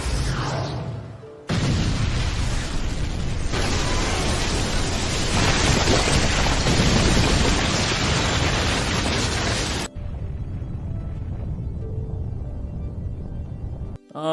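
A huge anime explosion as Pain levels the Hidden Leaf Village: a sudden roaring blast swells into a long, dense rumble lasting several seconds, then drops to a lower, fading roar before cutting off.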